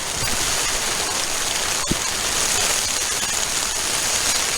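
Rain falling on a camping tent wrapped in trash bags with no rain fly, a continuous soft patter and hiss broken by a single dull thump partway through, with no one speaking.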